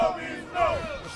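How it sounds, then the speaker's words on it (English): A crowd of protesters gathered at a union protest, voices raised together in a brief chanting roar that swells and then eases. "we finally get a full look at the crowd that is gathered out here"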